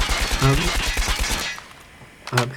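An ASM10 assault rifle firing in Call of Duty, a loud rapid automatic burst for over a second, then quiet and a short final shot, with a voice speaking over it.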